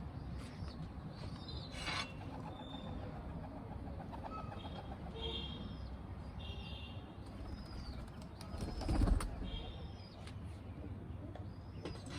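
Pigeons flying around a rooftop loft, with soft cooing and a few wing-flapping bursts, including a louder flurry near the end, over a steady outdoor background hum.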